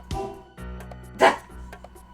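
Cartoonish dog barks from a Philips CD-i video game, a few short yaps spread over two seconds with one louder burst in the middle, heard over a soft game music track.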